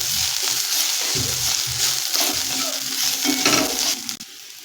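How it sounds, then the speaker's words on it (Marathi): Green chili and ginger-garlic paste sautéing in hot oil for veg pulao, a loud close sizzle broken by rhythmic spoon scrapes against the pan, ending abruptly. "यानंतर आलं लसूण पेस्ट आता हे आपल्याला परतून घ्यायचं आहे थोडंसं"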